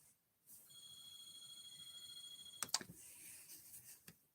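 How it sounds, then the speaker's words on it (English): A telephone rings indoors with a steady electronic tone that lasts about two seconds at modest volume, then a few sharp clicks and clatters follow. "And of course, the phone is ringing."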